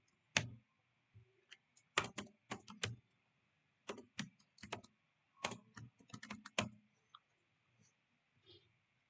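Bursts of quick keystrokes on a computer keyboard as code is typed, clustered in short irregular runs with pauses between, close and fairly quiet with no talk.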